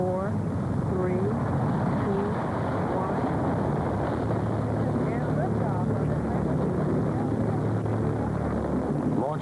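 Rocket main engines igniting at the launch of the Galileo spacecraft make a loud, steady, broadband roar that fills the whole stretch without letup.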